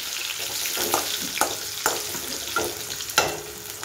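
Potatoes fry and sizzle in a pan on an induction cooktop, with a steady hiss broken by several sharp scraping stirs of a spatula, close and moderately loud.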